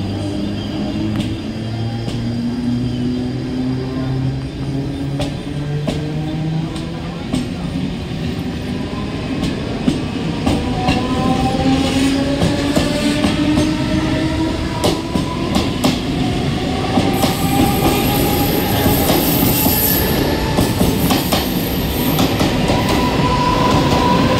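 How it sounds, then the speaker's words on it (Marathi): A fast Mumbai local train bound for Ambernath rumbles and clatters close by as it pulls into a station platform, its rising metallic whine and steady wheel noise growing louder, with no one speaking. "10:19 की अंबरनाथ जाने वाली एक तेज लोकल थोड़े ही समय में प्लेटफॉर्म क्रमांक 3 पर आ रही है"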